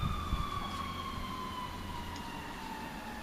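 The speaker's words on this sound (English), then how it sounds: "I hear like a fire truck in the distance too" A fire truck siren wails far off, its faint tone slowly sliding in pitch over a low, steady outdoor rumble.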